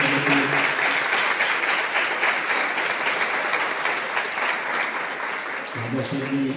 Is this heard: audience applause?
yes